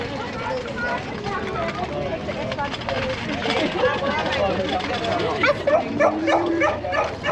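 Dogs bark and yip repeatedly along a town street during an e-bike ride in Conwy, Wales, the barks clustering near the end over a steady outdoor background, with talk mixed in.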